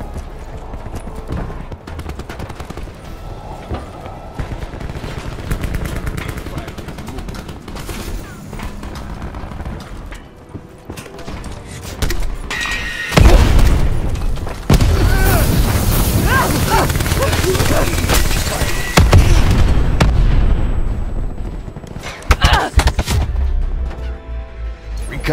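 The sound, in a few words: hellstorm missile strike explosions in Black Ops 4 video game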